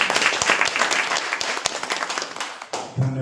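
An audience applauds Bhagat ji at a Republic Day function of an LIC branch in Gobindpur, with sustained dense clapping that fades near the end before a voice begins.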